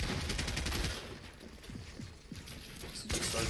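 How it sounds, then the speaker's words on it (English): Video game gunfire, a rapid burst of shots that quickly fades into quieter mechanical clicks and shell-like tinkles, followed by another short burst at the end, all heard without talk. "Shooting his gun sometimes."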